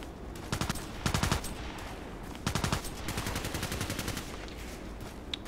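Automatic FN SCAR-L rifle fire in the shooter game Contract Wars, two sharp rapid bursts of several shots each, loud and close, with a few scattered single shots afterward.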